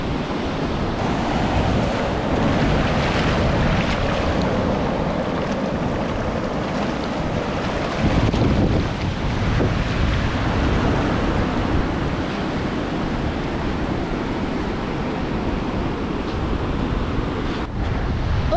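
Waves breaking and washing up on a quiet, clean beach in South Goa near Palolem, a continuous loud surf roar with wind buffeting the microphone and no talking.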